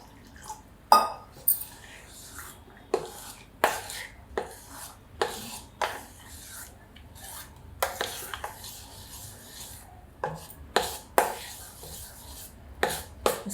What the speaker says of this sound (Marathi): फेटून घ्यायचं पीठ फेटून घेते मी चांगलं